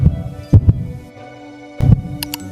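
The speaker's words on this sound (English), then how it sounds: "His heart skipped a thump." Two heavy heartbeat thumps sound close and loud, a double beat followed by a low hum and then another thump later, used as an effect in a read-aloud children's Christmas story.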